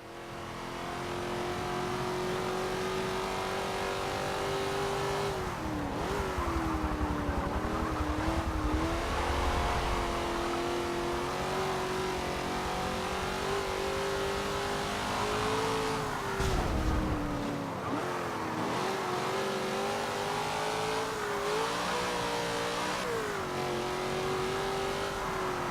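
Racing car engine in the Forza 7 video game, revving steadily at high pitch throughout, with brief dips as the throttle lifts for corners before climbing again, loud and continuous with tire noise underneath.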